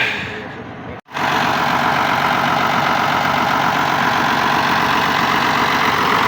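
A Case MX270 tractor engine idles loudly and close, a steady broadband rumble that drops out briefly near the start and then runs on evenly without talk.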